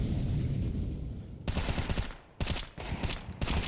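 Rifle gunfire in the video game Counter-Strike 2, several loud, sharp rapid bursts after a low rumbling lull, close and separated by short gaps.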